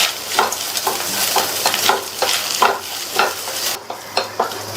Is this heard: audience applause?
no